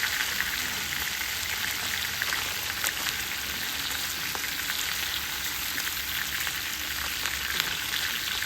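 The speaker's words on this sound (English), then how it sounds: "Now we're just going to simmer it slowly." A cut-up stick of butter simmering on low heat in a pot makes a continuous, even crackle and hiss with no break, steady and moderately close.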